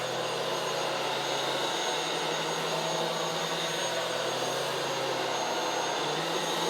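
A Jigoo J300 Pro mattress vacuum cleaner runs continuously on a king mattress, a loud, steady, close-up whine and rush of air with a slight pitch shift midway.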